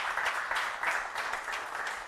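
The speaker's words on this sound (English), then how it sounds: "I think that deserves a round of applause." A steady, dense burst of audience clapping at a live product launch event, moderately loud and uninterrupted for about two seconds with no talking over it.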